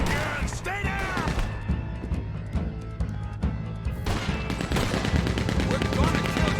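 A Gatling gun fires in rapid bursts during a bank robbery shootout in Red Dead Redemption 2, dense crackling volleys and impacts over a steady game background, with a shouted voice near the start.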